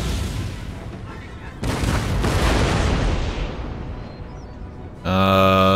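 Cannon shots from artillery in the game Empire: Total War, with a Polish-Lithuanian army on a battlefield. Heavy booming blasts come at about 1.6 seconds and again near the end, rumbling over a steady background of battle noise.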